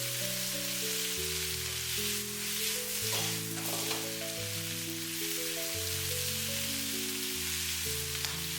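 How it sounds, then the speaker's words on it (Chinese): Watery cabbage stems stir-frying in a wok with fragrant aromatics produce a loud, continuous crackling sizzle with occasional tossing clatter, over steady background music. "接下來把白菜梗倒在鍋中，快速的翻炒均勻。"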